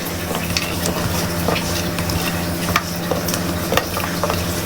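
Round slices of bitter gourd frying in a small amount of oil in a wok give a steady, close sizzle, with light scraping and stirring clicks scattered through it and no talking.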